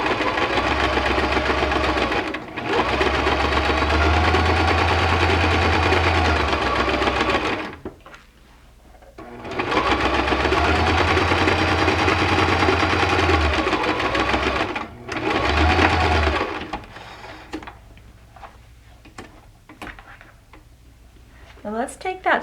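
A sewing machine runs a quarter-inch straight stitch on a zippered box pouch in loud, steady bursts of several seconds each, with short pauses between runs and brief stops near the end.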